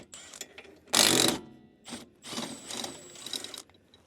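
Wrench ratcheting and clanking while 17 mm bolts come out of the strut bracket on a 2006–2012 RAV4 4WD: one loud close burst of metallic clicking, then several shorter ratchet runs, with no talking.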